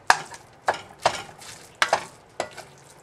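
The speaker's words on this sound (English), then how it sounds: "So when you brown the meat like this, you can see that it's cooked" Ground meat browns in a pan for spaghetti sauce while a utensil chops and stirs it, sharp scraping strokes repeating every half second or so over a low sizzle, close and fairly quiet.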